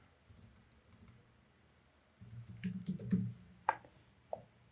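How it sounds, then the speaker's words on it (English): Typing on a computer keyboard, with soft, irregular key taps in short bursts and a couple of sharper clicks, quiet and close. "I'm gonna type,"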